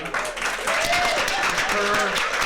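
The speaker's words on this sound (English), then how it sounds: "a big round of applause for Dr. Gray." A crowd claps steadily throughout, a dense wash of applause heard fairly close and continuous.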